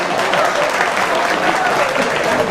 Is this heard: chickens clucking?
no